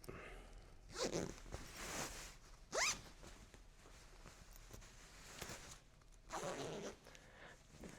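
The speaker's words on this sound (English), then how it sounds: "start to zip, going all the way around" A zipper is pulled around a Yogibo bean bag ottoman cover in several separate bursts of rasping zips, moderately close, with soft handling rustle between them and no talk.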